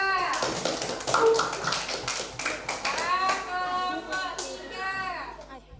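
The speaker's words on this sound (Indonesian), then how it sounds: "Beri tepuk tangan untuk kelompok 2" Clapping from a classroom of students for a group that just presented, with children's voices and talk running over the scattered claps.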